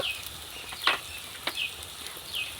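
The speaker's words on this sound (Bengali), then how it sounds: "লাল লঙ্কার গুঁড়ো ভালো করে আমি কষিয়ে নিব নাড়াচাড়া করে" Red chili powder, with turmeric, cumin and coriander powders, frying and being stirred in a pan for egg cutlets: a quiet, steady sizzle broken by a few short scraping strokes, with no voices.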